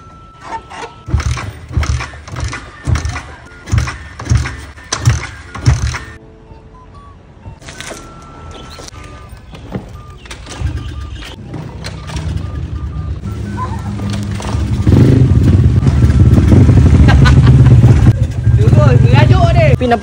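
A Honda NC motorcycle that has sat unused for a long time cranks in a series of rhythmic starter pulses, then catches and settles into a loud, steady idle that grows louder and nearer, with someone talking over parts of it.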